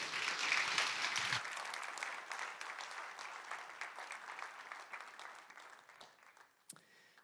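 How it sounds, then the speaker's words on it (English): A church congregation applauds, loud at first, then the clapping thins and fades into scattered claps before a short voice or sound breaks in near the end. "Guys, can we give Dan and Jennifer a big round of applause here?"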